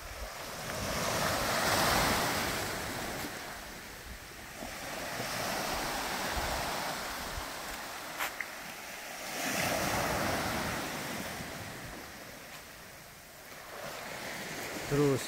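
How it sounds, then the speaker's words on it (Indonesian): Ocean waves wash onto a beach in the Guraici Islands, swelling and receding in slow surges at moderate distance, with wind buffeting the microphone throughout. "Ini pantainya."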